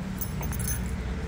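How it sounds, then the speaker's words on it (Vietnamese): A bunch of keys jangles briefly at a roadside warehouse, producing a few bright metallic clinks over a steady low hum of nearby traffic. "Cái chìa khóa này hả chú?"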